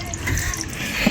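Water is poured over an RCB R55 brake caliper on the rear disc of a Honda Click 160 scooter, a steady close splashing flow that is fairly loud and has no talk.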